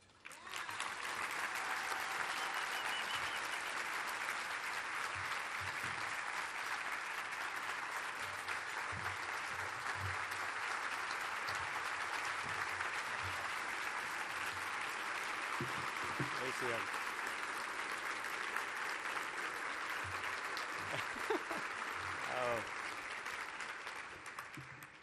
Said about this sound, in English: Thank you all for the applause.